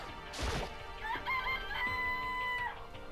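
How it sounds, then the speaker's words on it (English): Rooster crowing sound effect in the video game Danganronpa, a single cartoonish cock-a-doodle-doo following a brief clatter, clear and close with no speech. "Nice chicken stock sound effect."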